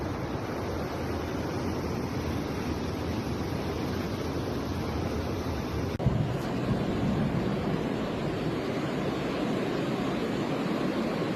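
Floodwater of the overflowing La Paz River rushing through city streets after heavy rain, a loud continuous churning roar with no voices.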